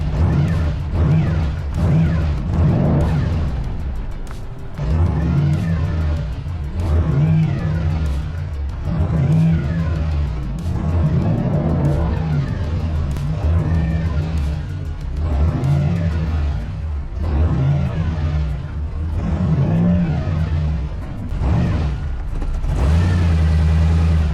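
A car engine revving and accelerating hard in a driveway for a wheelie, with repeated loud, growling rev surges and brief dips between them.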